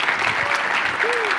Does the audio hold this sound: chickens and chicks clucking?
no